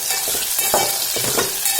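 Crushed garlic and ginger sizzling in hot oil in a pan for masale bhat, with a spoon stirring and scraping in a steady rhythm, close and continuous with no voices.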